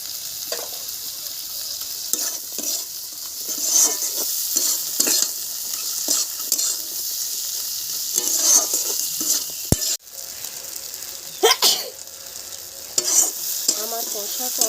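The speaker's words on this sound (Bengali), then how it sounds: "যাতে খুব তাড়াতাড়ি ভাজাও হয়ে যায়, পেঁয়াজটা মজেও যায়" Onions and tomato sizzle and fry in a pan for a crab curry, with steady crackling broken by repeated stirring and scraping strokes of a spatula, close and fairly loud throughout.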